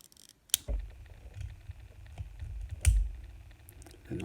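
Small plastic rivets pop out of the spoiler of a 1/64 scale Johnny Lightning Camaro SS model car. Two sharp little clicks stand out, with faint handling rustles around them, in an otherwise quiet room.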